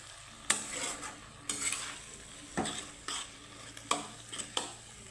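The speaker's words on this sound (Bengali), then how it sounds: "একটু একটু পরপর নাড়ে চাড়ে দিতে হবে যাতে নিচে লেগে না যায়" Vegetables for tangra fish chorchori sizzle in a pan under a soft steady hiss, punctuated by about seven sharp scraping stirs of a spatula at irregular intervals, close and clear.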